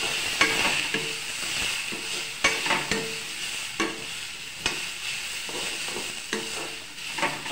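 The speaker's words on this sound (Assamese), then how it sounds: "আৰু কঁঠাল গুটিখিনি ইয়াতে দি দিম বইল কৰি থোৱা। তাৰপৰা এতিয়া আকৌ ভালকৈ লৰাই দিম।" Jackfruit seeds and potato sizzle in a pan while a utensil stirs them, with a steady fry punctuated by regular scraping knocks every second or so.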